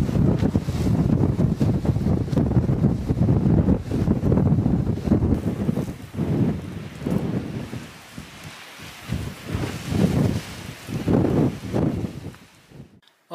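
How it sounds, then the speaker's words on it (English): Strong, gusty wind buffets a tent campsite, roaring in surges that swell and ease, with a loud stretch early on and quieter lulls before renewed gusts, no speech. "the wind comes and goes in gusts"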